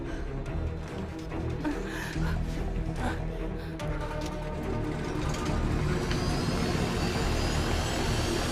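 A fixed-wing airplane's engine roars and builds as the plane takes off, a dense, loud drone with a hiss that rises toward the end.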